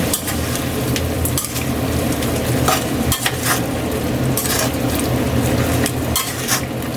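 Pork and tofu sizzle and fry in a pan while a utensil stirs steadily through them, with occasional clinks of metal against the pan over a continuous dense crackle.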